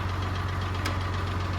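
A Farmall 1206 tractor engine idles with a steady, low, throbbing drone, close and constant throughout.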